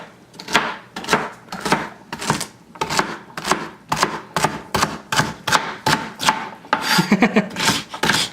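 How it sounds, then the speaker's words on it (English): Celery chopped with a knife on a cutting board: a fast, steady run of crunchy close chops, around two per second, continuing throughout with a brief quickening near the end. "I'm a pro celery cutter."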